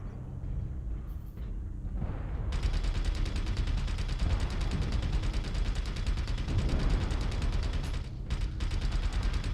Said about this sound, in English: I think your machine guns are still firing